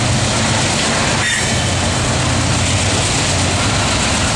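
CSX freight train led by an ES44 and CW44AC locomotives passes under a highway bridge, a loud, steady roar of engines and rolling cars filling the whole stretch.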